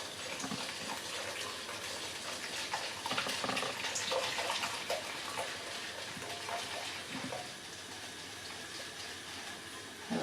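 A whisk works a hot mixture into eggs and sugar for crème anglaise, a steady wet churning and sloshing of liquid with faint scraping, continuous and close throughout.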